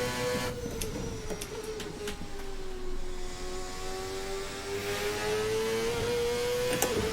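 A 1999 IndyCar formula car engine in a racing video game roars at over 300 km/h, with a thin turbo whistle sliding steadily above the constant drone.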